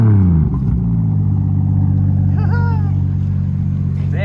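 A turbocharged Lexus IS300 SportCross engine revs briefly and then settles into a loud, throbbing idle, recorded close; a short whistle-like tone rises and falls partway through.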